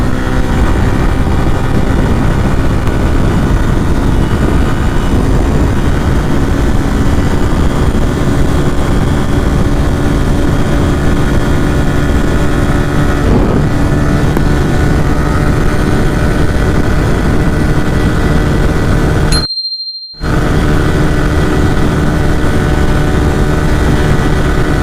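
A Suzuki Gixxer SF motorcycle climbing uphill holds a loud, steady engine drone with wind rush, briefly cutting out for a moment before resuming, with no talking.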